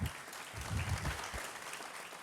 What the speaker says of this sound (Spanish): Dale un aplauso al Señor, qué tremendo.